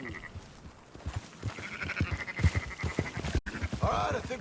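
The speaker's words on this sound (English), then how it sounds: "Marston, why don't you leave the sheep to me?" Sheep bleat in Red Dead Redemption 2, with several nasal calls rising over a busy outdoor game mix of hooves, movement and ambient noise, the loudest bleat coming near the end.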